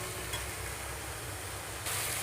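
Chickpea flowers fry in a pan with a steady, close, even sizzle that runs throughout, with a brief louder hiss near the end; no one speaks.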